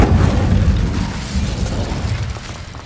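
The Incendio fire spell cast in Hogwarts Legacy bursts out as a loud, close whooshing boom with a crackling roar that slowly fades over a few seconds.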